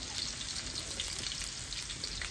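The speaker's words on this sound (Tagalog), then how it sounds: "Igigisa natin ang bawang." Garlic and ginger sauté in a pan of hot oil for a Filipino chicken stew, giving a steady, close, even sizzle and crackle throughout, with no talking.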